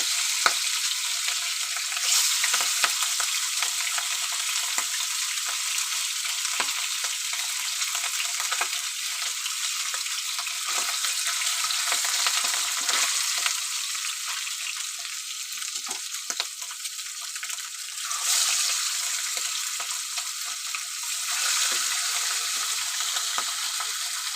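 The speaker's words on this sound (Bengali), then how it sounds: "মাছটা ভেজে নেব মাছ আমি নুন হলুদ মাখিয়ে নিয়েছি" Fish rubbed with salt and turmeric sizzles steadily in hot oil in a kadai, a dense, continuous crackling hiss that stays loud and even throughout with no voices.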